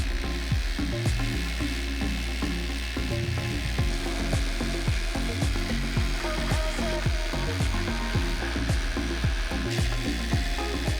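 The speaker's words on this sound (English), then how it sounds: "Simply attach your drill, clamp the drill's trigger, and put on your favorite noise-canceling headphones." A cordless drill with its trigger clamped drives a DIY filament pelletizer machine, giving a steady, loud mechanical grinding and ratcheting clatter with rhythmic clicks throughout, close and alone without talk.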